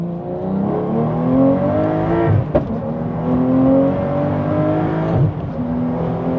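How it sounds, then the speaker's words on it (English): A 645 hp Porsche 992.2 Carrera T pulls hard in sport mode, its flat-six rising steadily in pitch, with sharp exhaust pops cracking out twice during the run. The sound is loud and close, with no talking. "Nice pops from the exhaust."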